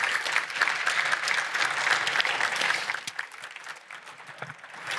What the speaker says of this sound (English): Could we give that a big round of applause,